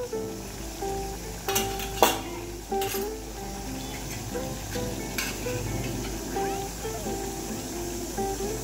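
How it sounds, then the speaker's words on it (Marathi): Red chili powder and spices sizzle in hot oil for sukka mutton, a steady frying crackle broken by sharp clinks of a spoon stirring against the pan, with speech over parts of it. "आता याला प्रॉपर जे आहे फ्राय करतोय आम्ही"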